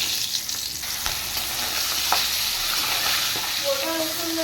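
Whole garam masala, cloves, cardamom, cinnamon, mace and nutmeg with mutton frying in hot oil, a loud steady sizzle with a few sharp scrapes of stirring and brief faint tones near the end.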